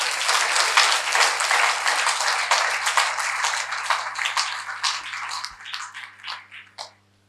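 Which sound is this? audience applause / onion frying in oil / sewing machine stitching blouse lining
audience applause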